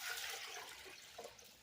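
Liquid acid solution is poured into filters, giving a brief, faint, steady splashing rush of liquid, close by and without talk.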